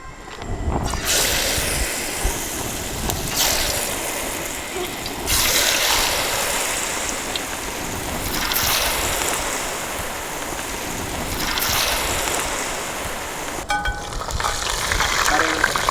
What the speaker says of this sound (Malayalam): ഇതിൽ നിന്ന് എടുക്കുക, മസാലയിൽ നിന്ന് മുക്കുക, എന്നിട്ട് എണ്ണയിലേക്ക് ഇടുക